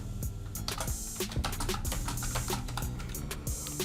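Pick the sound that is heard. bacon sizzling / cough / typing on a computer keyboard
typing on a computer keyboard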